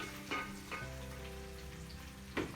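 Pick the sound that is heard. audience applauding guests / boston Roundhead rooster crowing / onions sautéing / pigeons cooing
onions sautéing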